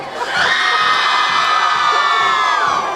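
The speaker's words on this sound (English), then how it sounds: "We got to get them MIAs as loud as them cheerleaders, Big Fred." A large crowd and cheerleaders screaming and cheering continuously at a 2014 high school football game, high-pitched shouts blending into a loud roar with a rhythmic thump underneath.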